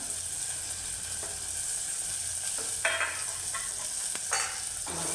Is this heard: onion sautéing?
yes